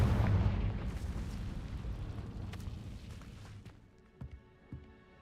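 A Confringo blasting spell in Hogwarts Legacy goes off with a loud, rumbling explosion that decays over a few seconds, followed by a couple of smaller pops and thuds.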